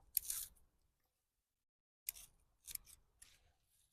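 Scissors cut off bunches of plant leaves while pruning, one crisp snip followed after a pause by three quick, close cuts in a quiet room.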